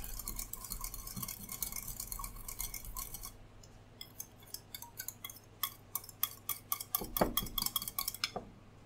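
Whisk or spoon clinking against a bowl while mixing vinaigrette with a couple dashes of hot sauce, a rapid run of light metallic taps that grows into sharper, irregular clicks toward the end, close and quiet with no talking.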